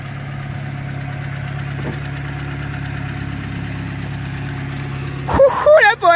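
A car engine idles steadily at a low, even hum after a repair, alone for several seconds until a sudden burst of handling noise and a brief voice at the end.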